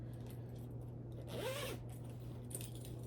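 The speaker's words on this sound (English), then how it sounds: "and it has a zipper here." A zipper on a fabric bag is drawn once in a short, soft rasp, faint and close, over a quiet indoor hum.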